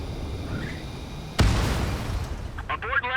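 A plane crash in the Ace Combat 7 video game bursts out as a sudden loud explosion partway through, then a long rumbling roar that decays slowly while radio chatter follows.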